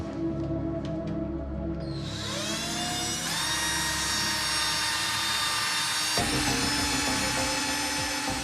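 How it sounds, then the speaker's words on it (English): A power drill bores into timber during a border security inspection, starting with a rising whine and then running as a loud, sustained buzzing grind with a slight shift in pitch partway through. "we're just going to drill a hole, see if we can, if any powder or anything comes out"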